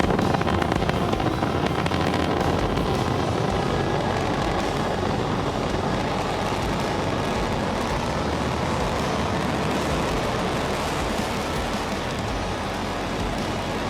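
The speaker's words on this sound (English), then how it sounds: "Now that landing burn will rapidly bring the stage's speed down to 0." Falcon 9 booster's Merlin 1D engine firing its landing burn, heard as a loud, continuous broadband roar with crackling texture, steady and unbroken throughout.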